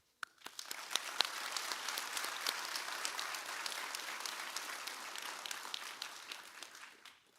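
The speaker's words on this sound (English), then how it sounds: "And I believe that he needed a round of applause" Audience at a lineman training institute graduation applauding a departing instructor, sharp individual claps rising quickly into sustained, fairly even applause that tapers off toward the end.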